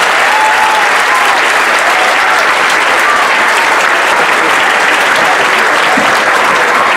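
Loud, sustained applause from a crowd at a soccer awards dinner, a dense steady wash of clapping that fills the room without a break from start to finish.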